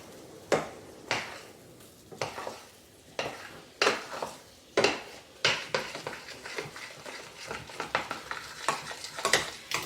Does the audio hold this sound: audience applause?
no